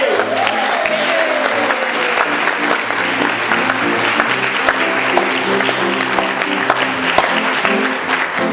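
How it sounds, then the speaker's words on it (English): An audience at an entertainer's show applauds the helpers on stage with loud, sustained clapping, while a low musical tone and scattered voices sit beneath the dense crowd noise. "a big round of applause for everybody who helped me out up here on stage"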